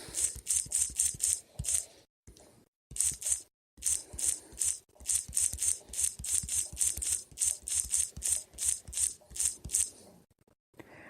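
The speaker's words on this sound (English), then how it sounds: "Typing again, sorry." Rapid clicky keystrokes of keyboard typing come in quick bursts with short pauses, fairly close and crisp, with no voices.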